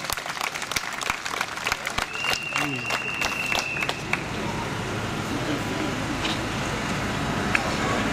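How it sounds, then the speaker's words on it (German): Crowd applause at an outdoor rally in Hamm, scattered sharp claps at first that swell into steady, continuous clapping, heard at mid distance amid open-air background noise. "Ich glaube, das ist ein Applaus wert."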